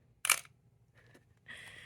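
A vintage Pentax K1000 film camera gives a sharp mechanical shutter click close up and alone, followed by softer handling clicks and a brief ratcheting film-advance sound.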